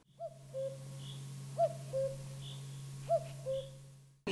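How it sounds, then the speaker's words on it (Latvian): A common cuckoo calls in the countryside, its two-note cuckoo repeated three times in a steady rhythm, clear but some distance off, over a low constant hum. "Šodien visu dienu, kamēr mēs esam pie jums, dzeguzi kūko."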